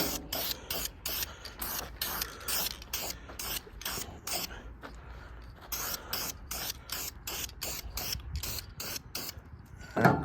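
Short bursts of spray paint hiss steadily onto bracket pulleys from a 1966 Ford Thunderbird, a close, rhythmic series of many quick sprays separated by brief gaps, ending with a small knock.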